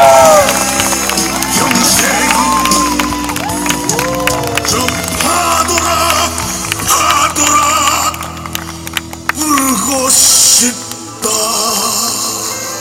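An audience at a Korean fire show cheers and claps loudly and steadily, with shouts rising over the crowd noise and talk mixed in, dropping briefly before swelling again.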